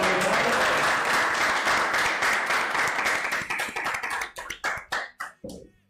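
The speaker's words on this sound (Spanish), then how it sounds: "Pido un aplauso para nuestro invitado" An audience gives a guest a round of dense, steady applause that thins out over the final seconds into a few scattered, separate claps before stopping.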